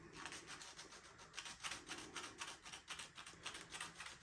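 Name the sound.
sanding car window frame down to bare metal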